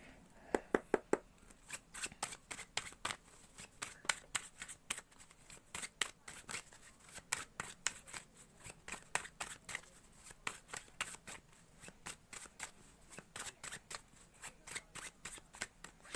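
Tarot cards are shuffled steadily for a long stretch, a rapid train of crisp riffling snaps in a close, quiet room, fairly soft and even, with no talking over it.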